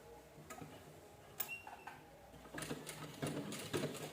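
A sewing machine stitches folded cloth for a fabric bag organizer, quiet and close, running in short irregular bursts of rapid ticking and whirring separated by brief pauses.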